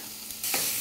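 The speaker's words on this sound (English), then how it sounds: "So we just break up the sausage in the pan and let it cook." Sausage being broken up and frying in a pan for biscuits and gravy, a soft stirring scrape giving way to a steady, close sizzle that swells halfway through.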